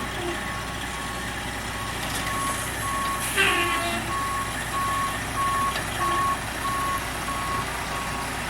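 A Sterling diesel truck backs up at a septic system replacement site, its reversing alarm beeping at a steady regular pace over a rumbling engine, with a brief hiss partway through.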